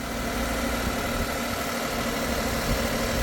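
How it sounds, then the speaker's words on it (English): A small three-cylinder engine in a 2020 Toyota Yaris Hybrid idles with a steady, slightly rough, uneven low rumble like a lawnmower, close up and continuous with no talking. "it sounds like a lawnmower when just idling."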